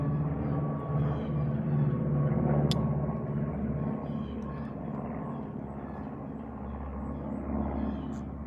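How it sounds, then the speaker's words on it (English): Airplanes passing overhead produce a continuous low engine drone that swells slightly and then fades, steady and fairly loud, with no talk over it. "There are a lot of planes today"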